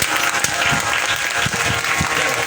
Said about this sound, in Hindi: जरा एक बार ताली बजाइए इनके लिए।